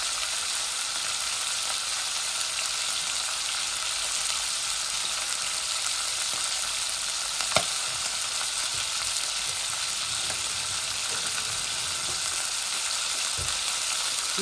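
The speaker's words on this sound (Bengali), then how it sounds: "মাছটা আমার বাজা হয়ে গেছে, এখন আমি উঠাই নেব।" Hilsa fish frying in a pan with radishes, a steady close sizzle with a bright hiss running evenly throughout, punctuated by a few faint pops and stirring clicks, with no voices.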